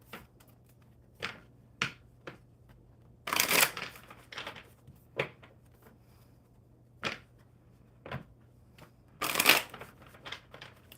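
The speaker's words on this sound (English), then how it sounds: "One more good shuffle." Playing cards are shuffled at a table, with scattered single card snaps and two loud riffling bursts, close and crisp in an otherwise quiet room with a faint steady hum.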